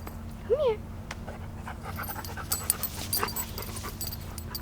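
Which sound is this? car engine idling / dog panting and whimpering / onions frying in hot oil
dog panting and whimpering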